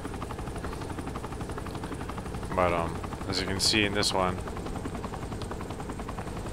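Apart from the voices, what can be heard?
helicopter in video game Saints Row the Third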